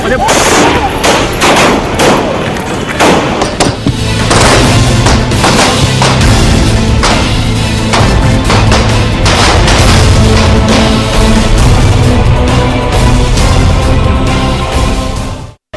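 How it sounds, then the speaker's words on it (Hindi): Loud, rapid pistol gunfire, sharp shots fired in dense bursts that keep going with hardly a pause, with a constant noisy background behind them. "अतीक और उसके भाई अशरफ पर ताबड़तोड़ गोलियां बरसाई गईं।"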